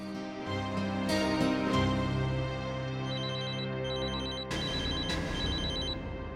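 An electronic landline phone ringtone chirps in repeated short bursts over a sustained musical background, steady and moderately loud.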